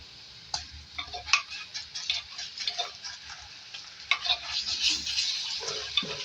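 Ginger-garlic paste sizzles and crackles in a pan with scattered pops and stirring clicks, steady and close, with no one talking.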